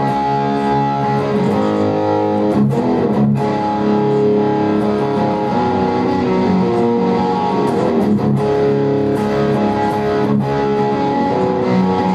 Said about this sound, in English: So I'm going to switch to distortion, which of course what this guitar is made for.